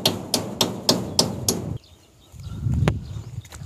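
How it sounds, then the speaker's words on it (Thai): A hammer drives nails to mount a solar spotlight, six sharp, evenly spaced strikes followed by a pause and then a few scattered, lighter knocks and rustling. "ใช้ตะปูตอกเหมือนกันนะครับ"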